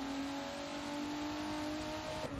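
A race car in a sim racing game at Sebring revs through turns, a steady tonal engine whine that holds a pitch and then shifts briefly near the end, clear and alone.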